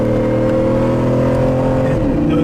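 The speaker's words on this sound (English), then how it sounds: "Downshift." A 500 hp HEMI-swapped Jeep JK engine roars loudly and steadily throughout an off-road drive, its revs dipping and shifting near the end as the transmission downshifts.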